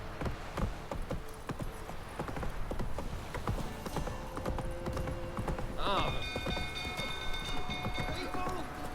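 Hooves of Roach the horse pound in a steady gallop in The Witcher 3, a rapid, continuous clatter that runs throughout, joined later by sustained tonal game sounds and a brief whinny.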